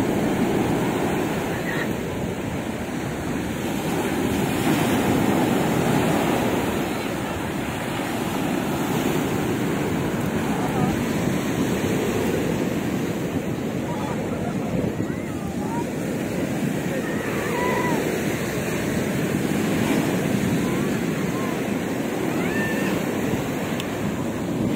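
Steady surf washes along the Black Sea shore at Odesa with constant wind rumbling across the microphone, and faint voices in the background.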